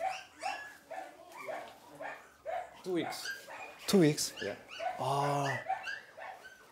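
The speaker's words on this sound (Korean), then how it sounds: "2주밖에 안 된 새끼 강아지들입니다" Two-week-old Portuguese water dog puppies whimper, yip and squeal in short, high bursts at close range, mixed with people talking softly nearby.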